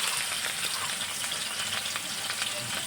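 Onions frying in hot oil, a dense continuous sizzle and crackle held close and loud throughout.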